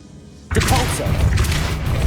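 The Depulso force spell cast in Hogwarts Legacy: a sudden loud whooshing boom after a quiet moment, followed by a sustained rumbling blast that fills the rest.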